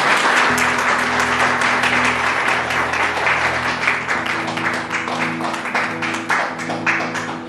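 A church congregation claps loudly and steadily during a Bengali sermon, a dense, sustained wash of hand claps filling the room, with a low sustained tone running beneath most of it.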